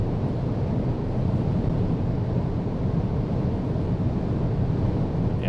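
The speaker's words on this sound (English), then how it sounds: "the wind noise are definitely very loud now compared to when you're driving at 130" Loud, steady roar of wind noise inside an Audi e-tron GT electric sports car driving near its top speed, a dense, unbroken rush with a low rumble beneath, with no talking.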